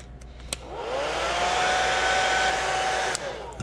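A heat gun blows a steady, loud whooshing roar with a faint whine, drying airbrushed paint on a fishing lure, with a couple of clicks as it starts and stops.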